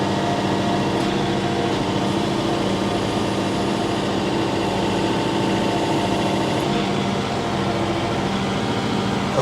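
A tractor-mounted auger bores into dirt, a steady, close engine drone with a constant hum holding evenly from start to finish and no voices.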